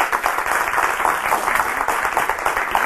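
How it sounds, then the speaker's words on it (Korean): A studio audience applauds steadily at a lecture, dense overlapping clapping at a fairly loud, even level throughout, with no voices on top. "큰 박수로 맞아주시기 바랍니다."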